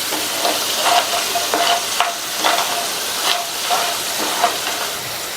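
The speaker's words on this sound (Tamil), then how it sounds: "உருளைக்கிழங்கு நல்லா மொறுன்னு ஃப்ரை ஆயிடுச்சு" Potato pieces deep-fry in oil until crispy, a loud close bubbling sizzle with rhythmic bursts of stirring and frothing every half second or so, no speech.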